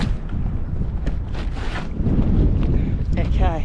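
Strong wind buffets a sailboat at sea, gusting roar and microphone wind noise with water sounds, while people talk briefly over it.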